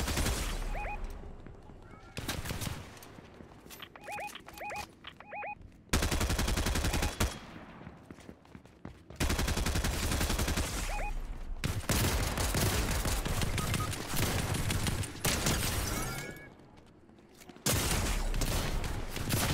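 Video game gunfire crackles in repeated bursts and rapid volleys at moderate loudness, with abrupt cuts between loud and quieter stretches and occasional game sounds, and no clear talking.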